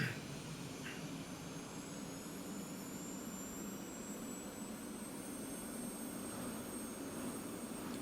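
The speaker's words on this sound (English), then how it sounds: "Sword 2-1 starting engine." An F-16C jet engine spools up during startup in the DCS combat flight simulator, a steady loud turbine roar with a rising high whine, alone with no talk.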